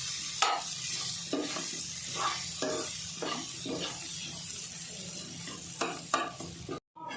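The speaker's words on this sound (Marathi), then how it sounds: "फक्त परतून घ्यायची तिला आणि मी फास्ट गॅसवरच करते" Moong dal sautéed in a pan over a high gas flame, an even sizzle under regular rhythmic stirring strokes, close and fairly loud, ending with a short sudden drop.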